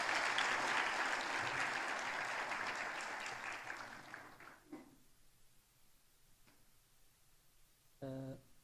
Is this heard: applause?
yes